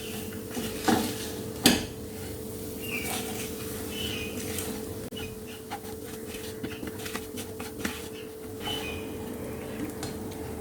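Baby potatoes being stirred with masala in a pan, with repeated scraping and clinking of a spoon against metal, a few louder knocks, and a faint sizzle underneath.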